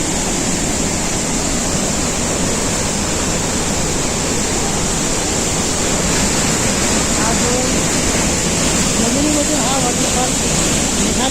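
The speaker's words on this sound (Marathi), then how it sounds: "किती सुंदरचा हा वॉटरफॉल आहे" Steady broadband roar of rushing water at Davis Falls in Pokhara, Nepal, heard up close, continuous throughout with a faint voice or two underneath.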